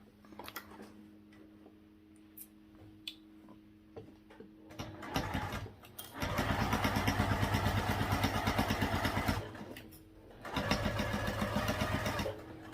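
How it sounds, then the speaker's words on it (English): A sewing machine stitches a crossbody bag seam at a half-inch allowance in two loud, steady bursts of rapid rhythmic clatter, separated by a brief pause, with quieter handling sounds before. "sew around at 1/2 inch seam allowance all the way around"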